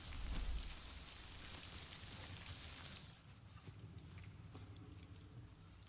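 Soft, continuous rain in the video game Death Stranding patters steadily alongside faint hoof-like clopping; the sound grows duller and quieter partway through.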